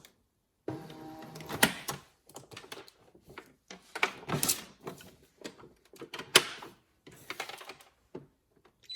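A Brother ScanNCut cutting machine runs a background scan of its mat, giving off quiet intermittent mechanical clicks, taps and brief whirring bursts in an otherwise still room.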